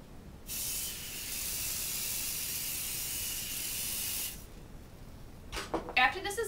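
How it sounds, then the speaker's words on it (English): A pump-spray bottle of self-tanner hisses onto bare arms in one steady, close spray lasting about four seconds. Soft rustling and handling noises follow. "I spray it on my arms, on the back of my arms"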